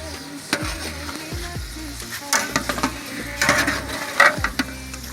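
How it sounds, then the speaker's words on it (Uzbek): Biryani fries in a pan over low heat with a steady sizzle, broken by intermittent clinks and scrapes of stirring against the pan, close and fairly loud. "Pastroq olovda qovurishar ekan bular."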